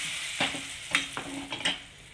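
A tempering with asafoetida sizzles in a pan for moong dal rasam while a spoon stirs it, producing a few sharp scraping strokes over a steady frying hiss.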